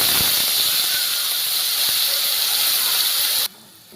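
Turmeric and a spice paste sizzle in hot oil as a loud, steady broadband hiss that runs unbroken for several seconds, then drops sharply to a quieter simmer near the end.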